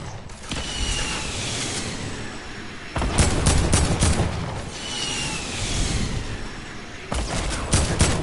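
Gunfire and mechanical game effects in Fortnite, dense rattling bursts of rapid shots in several sustained volleys with abrupt starts, loud and close, with no talk.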